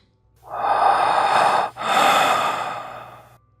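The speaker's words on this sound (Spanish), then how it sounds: "esa respiración anómala venía de la ventana" Two long, heavy breaths, a rasping inhale and exhale, loud and close with a brief catch between them.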